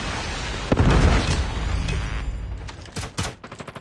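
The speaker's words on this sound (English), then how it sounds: "Predator missile inbound." A Predator missile strike in a first-person shooter video game lands with a loud, close boom that rumbles and fades, followed by scattered sharp gunfire pops.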